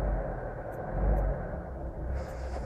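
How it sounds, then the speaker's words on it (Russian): A car engine at working temperature gives a low, steady rumble up close, swelling briefly about a second in before settling back to an even drone. "Я жму чуть-чуть газ, и авто сразу глохнет"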